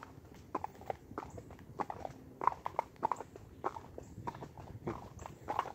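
Hooves of a grulla horse clip-clop at a slow walking pace on a hard road surface, ridden bareback, close and fairly quiet, with an even rhythm.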